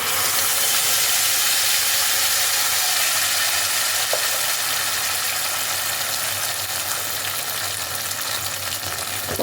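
Spice paste for a vegetarian masala paneer sizzles steadily in a hot pan, a dense, even frying hiss that holds at the same loudness throughout with no voices.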